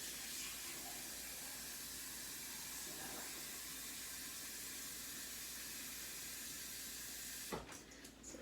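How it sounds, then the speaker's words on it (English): A kitchen tap fills a measuring cup with water for gluten-free macaroni in an Instant Pot minestrone. A steady, close rushing hiss runs throughout, ending in a brief clatter near the end. "I'm going to combine that with 3 cups of water. So let's just fill this quickly."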